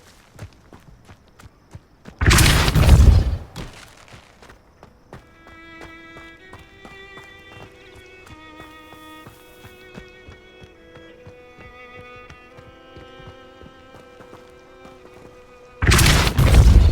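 A Depulso spell cast in the fantasy game Hogwarts Legacy, heard as two loud, brief whooshing bursts about thirteen seconds apart, with a soft musical game score playing between them.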